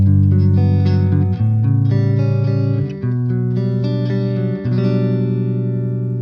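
A Fender Telecaster played through a Peavey Rage 158 on its clean channel with vintage voicing, strumming sustained chords that change about every second and a half, loud, close and alone with no talk.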